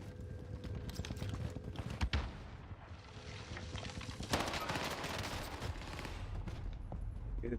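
A PPSh submachine gun in Warzone fires in rapid, faint bursts amid distant gunfire and game noise, with a few louder cracks along the way.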